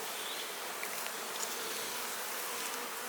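Honeybees hum in a dense, continuous buzz from an opened hive during beekeeping work, a close, even drone with no voices.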